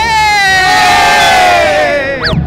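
Hardcore Buriram United football supporters beside their fan buses let out a loud, sustained massed chant and roar of voices, swelling and then dropping off into scattered whoops near the end.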